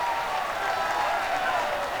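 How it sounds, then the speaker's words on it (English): Loud crowd cheering from World of Warcraft Dragonflight rolls on as a dense, steady roar of applause and shouting, sustained without a break for a couple of seconds. "the cheering is very loud"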